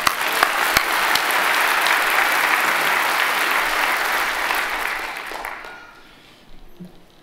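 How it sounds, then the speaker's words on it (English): Audience applause at a Medal of Valor award ceremony, a sustained wash of clapping from a sizeable crowd that fades out near the end, followed by a few faint sounds. "I want to give a round of applause for Sam."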